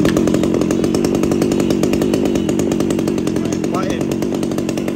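A used Japanese chainsaw engine runs close and loud in a steady, even drone with a fast pulsing rhythm throughout, and a voice cuts in briefly near the end.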